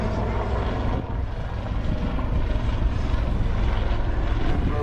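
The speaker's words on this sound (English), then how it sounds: "much of the noise that you hear comes from the main rotor, and some of it from the tail rotor" Helicopter with Rolls-Royce turbine engines at an airshow, a steady loud roar of main and tail rotor noise with turbine whine, sustained and fairly close throughout.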